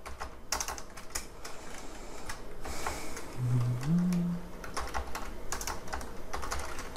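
Keys clatter in quick irregular bursts on a computer keyboard while code is typed into a Java web.xml servlet configuration file, close and steady across the whole stretch with a faint low hum underneath.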